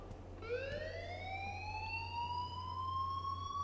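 A school fire alarm in Life is Strange wails as a rising electronic tone that climbs and holds steady for several seconds, loud and unbroken over a low background hum.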